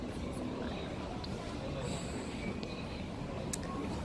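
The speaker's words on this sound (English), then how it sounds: "It's a 12 coach train, so there's plenty of room." A 12-coach train waits at a station platform, with a steady low rumble and a faint high whine over an even background, and no voices.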